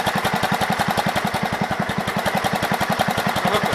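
The 526's small engine idles with a fast, even chugging pulse, loud and close, each firing beat repeating steadily with no other sounds.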